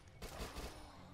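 Submachine gun fire from the Dead Nation video game: a dense, continuous burst of rapid shots lasting about a second, loud and busy, with no talk over it.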